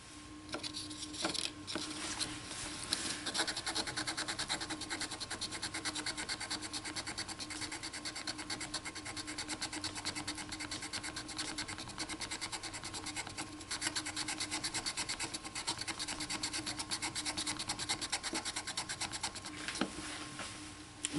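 Steady rubbing and rasping while polishing a trigger part face from a Mosin Nagant M91/30 rifle, a continuous close scraping texture that holds even throughout, with no talking.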